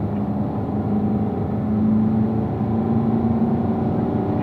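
A race car on a circuit holds a steady, loud engine drone with rising harmonic tones as it revs through a single gear shift, the pitch climbing, dipping briefly, then climbing again, with no voices.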